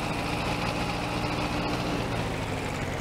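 Tractor engine idling in Farming Simulator 22, a steady low rumble that holds at an even, fairly loud level with no speech over it.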